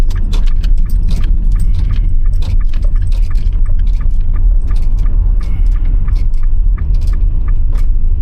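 Close, loud low rumble of a vehicle on a road in New Zealand early in the morning, with scattered rattles and clicks over a steady engine drone and no talking.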